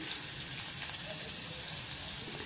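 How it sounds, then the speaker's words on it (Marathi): Thorny brinjals sautéing with garlic in a spoonful or two of oil, a continuous close hiss of frying with faint crackles throughout and no talk over it. "त्यात 1 ते 2 चमचे तेल टाकायचं आहे, म्हणजे वांगी छान परतून घ्यायचे आहेत।"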